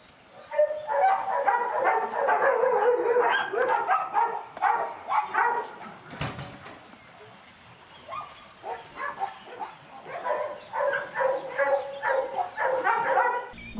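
Dogs yip and bark in rapid bursts close by, with whimpering between, and a short thump partway through.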